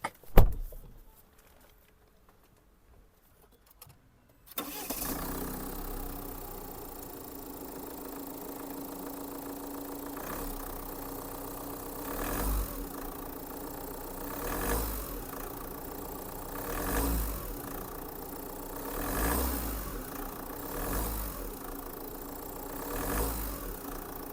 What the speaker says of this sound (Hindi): अब देख लेते हैं टाटा हैरियर की इंजन नॉइज़ को